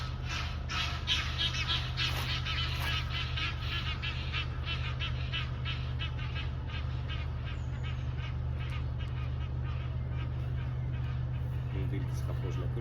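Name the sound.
wild geese honking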